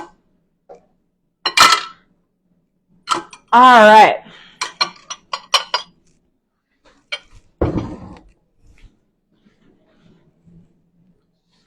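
Dishes, pots and pans clatter and clink as they are moved aside in a kitchen, arriving as sharp, close knocks in scattered bursts, with a brief spoken remark among them.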